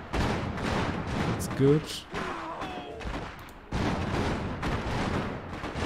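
Soldiers in the video game Iron Harvest trade bursts of gunfire in a dense, continuous rattle of shots and impacts, with a brief lull midway before the barrage resumes, while a person talks over it.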